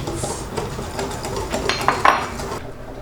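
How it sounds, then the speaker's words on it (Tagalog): Cake batter of sugar, salt, baking powder, vanilla and dry ingredients being mixed in a bowl for cheesy mamon, with a utensil clinking and scraping against the bowl in steady strokes that grow louder toward the end before stopping. "You mix it until well blended."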